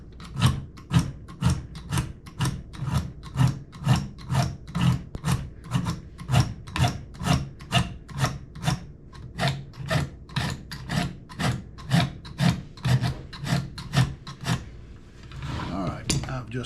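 A knife blade is drawn repeatedly through a sharpener, held steady by a guide, giving a long run of regular rasping strokes, close and fairly loud, about two per second, with a softer rustle near the end.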